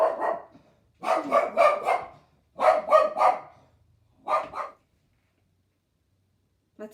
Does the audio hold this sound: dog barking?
yes